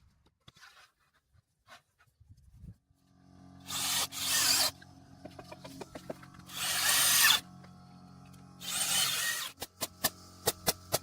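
A power drill drives fasteners into the corners of an off-grid cabin's floor frame, three loud whirring bursts separated by quieter knocks and clicks, ending in sharp taps.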